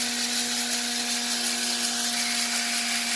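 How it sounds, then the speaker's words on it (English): A heat gun roars steadily with a rotating drill whirring beneath it while Tanzanian coffee beans roast, a loud, constant mechanical drone. "I have not turned on the heat gun, but I'm gonna do that right now and you'll be able to hear the difference"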